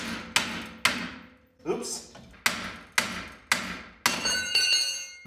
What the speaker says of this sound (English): Where's my Thor hammer? Pickle fork. It helps undo the steering linkage.